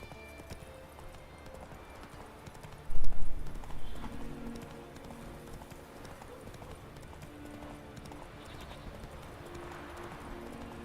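Roach the horse gallops in The Witcher 3, steady hoofbeats under a busy game soundscape, with a louder burst of clattering hooves partway through.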